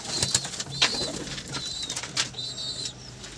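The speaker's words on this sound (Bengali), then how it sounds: "এই যে দেখুন এই যে পায়রা এটা হচ্ছে টেডি পায়রার বাচ্চা" Teddy pigeon chicks among other pigeons give soft coos and chirps with bursts of wing flapping, several calls in quick succession, close by.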